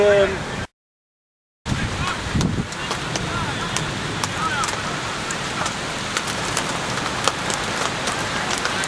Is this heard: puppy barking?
no